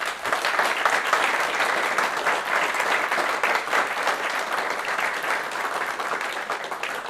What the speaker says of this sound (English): So could I get a huge round of applause for them